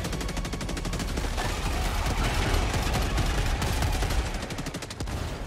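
Weapon fire in Helldivers 2: a continuous, loud stream of rapid automatic shots with a dense, even rhythm that holds for several seconds without a break.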